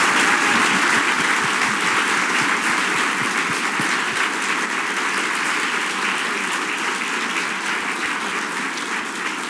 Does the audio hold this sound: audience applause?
yes